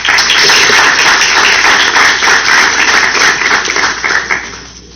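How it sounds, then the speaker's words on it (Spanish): An audience applauds a speaker at a ceremony, a dense loud wash of clapping that holds steady, then thins and fades out over the final second. "Un aplauso para él."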